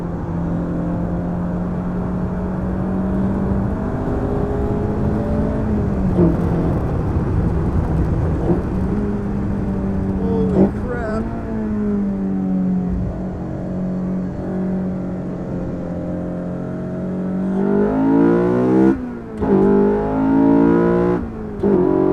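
Ariel Atom track car on a circuit, its engine droning steadily at speed, pitch climbing and dropping through repeated gear shifts, with a louder surge of revving near the end; no voices.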